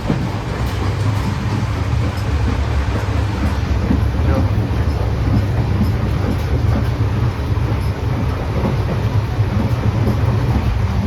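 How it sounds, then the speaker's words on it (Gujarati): Loud, continuous rattling rumble of a moving train heard from between coaches, steady and vibrating throughout, with a brief spoken word. "બે ડબ્બાની વચ્ચે છે ને જો આવું થાય આખું વાઇબ્રેટ થાય"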